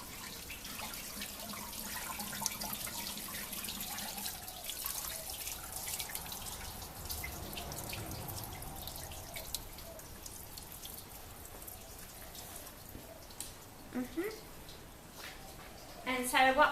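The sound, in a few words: water running from a garden hose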